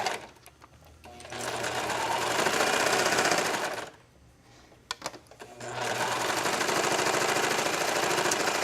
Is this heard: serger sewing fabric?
yes